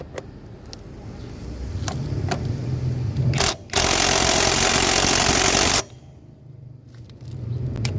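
Motorcycle engine idling steadily during a noise check for a ticking sound, probing whether it comes from the engine or the CVT, with a brief louder rev burst in the middle before settling back to a close, continuous hum.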